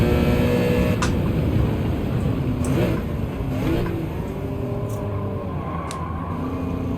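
BMW M3 race car engines in Gran Turismo 7, a steady loud mid-pitched drone of several cars running together on track, with brief higher whines and shifts passing through but no pauses.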